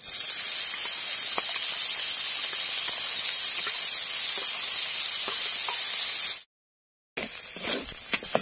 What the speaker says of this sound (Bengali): গুগলিটা দিয়ে দিচ্ছি, লবণ আর হলুদ দিয়ে ভেজে নেব।